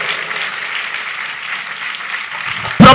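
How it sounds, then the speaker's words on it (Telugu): A congregation in a church claps in a steady, mid-distance patter that continues for a few seconds before a sudden loud close thump at the end. "గట్టిగా చప్పట్లు కొట్టి ప్రభుని కనపరచండి"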